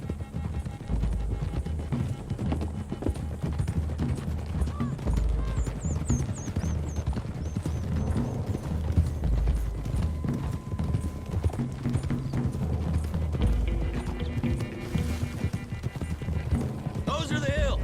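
Horses' hooves galloping along a road in Red Dead Redemption 2, a steady rapid clip-clop running throughout under game music and the voices of riders talking.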